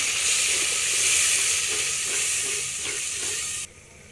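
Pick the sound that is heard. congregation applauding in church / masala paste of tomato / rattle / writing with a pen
masala paste of tomato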